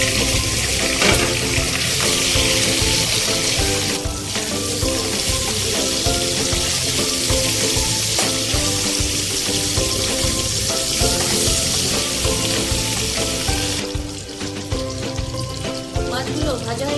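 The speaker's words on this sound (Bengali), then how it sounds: "এবার মাছগুলোকে আমি এইভাবে সব এক এক করে ভেজে নেব।" Pieces of katla fish fry in hot oil with a loud, steady sizzle that runs unbroken throughout, overlaid by tonal background music.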